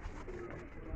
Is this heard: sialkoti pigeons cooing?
yes